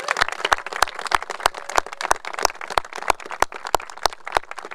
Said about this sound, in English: a huge round of applause for our Attorney General